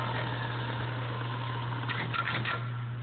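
Kawasaki 636SA motorcycle engine after a warm restart, a steady low idle hum with a constant tone, close and even, with faint mechanical ticking near the end.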